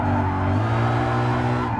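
A Mercedes SLR power-drifts in GT Sport, driven with a manual gearbox, its engine droning steadily under a continuous tire squeal that shifts pitch partway through, loud and close with no talking.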